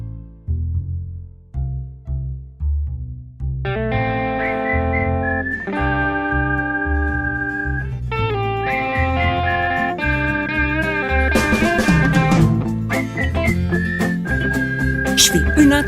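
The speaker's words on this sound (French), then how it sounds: "une intro en sifflant." A whistled melody opens a French song performed live at a concert venue, then builds over steady bass and accompanying instruments into a loud, full musical intro.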